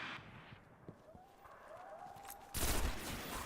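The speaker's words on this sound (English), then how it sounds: "let's shoot out some of the bullets in the mag" Pulse rifle fire in the Destiny video game: muffled bursts of shots through the clip, followed by a louder, dense blast of gunfire near the end, with no voices.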